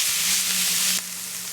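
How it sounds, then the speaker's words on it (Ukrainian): Steady sizzling of onion frying in hot oil, a continuous bright hiss close by that drops slightly in level near the end. "Спочатку обсмажу трошки цибулю."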